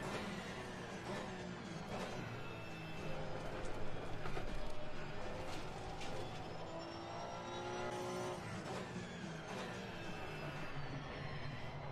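A race car in Assetto Corsa Competizione runs hard with its engine droning and shifting pitch, while ABS pulses rattle under braking throughout, loud and continuous with no talking.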